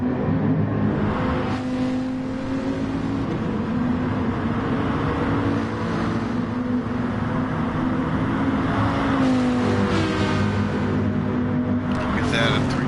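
Several racing cars in the Grand Prix Legends video game at Fuji Speedway, engines droning and rising in pitch as they run close together in a three-car train, heard under continuous commentary.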